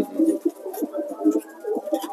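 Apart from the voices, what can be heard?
pigeons cooing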